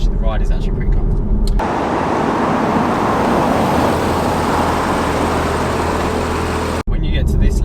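Porsche Cayman driving at low speed, a steady broadband rumble and road roar that stays loud and constant for several seconds before cutting off, with voices heard before and after.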